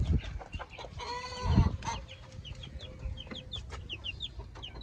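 Chickens cluck and squawk close by, with a loud harsh call early on and a run of quick chirps from chicks continuing in the background.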